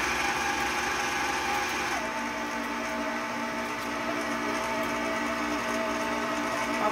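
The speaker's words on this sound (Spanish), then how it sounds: "vamos a poner lo que es la batidora. Vamos a prenderle para hacer este pan." Electric mixer running in cake batter for a tres leches cake, a steady whirring motor hum close by that shifts slightly in pitch partway through, with no talk over it.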